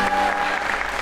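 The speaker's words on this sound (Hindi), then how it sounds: "तालियां इस बात पे यार।" A talk show studio audience breaks into applause, dense clapping that stays steady and fairly loud throughout the short moment.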